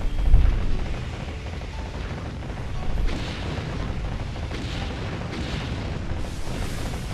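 Ship cannons in Warship Gunner 2 Portable boom in a heavy opening blast, then dull rumbling shots and bursts roll on under a dense, steady roar of naval battle noise.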